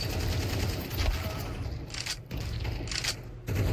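Rapid automatic gunfire rattles in the video game Counter-Strike, steady bursts broken by two brief pauses, loud and close with no talk.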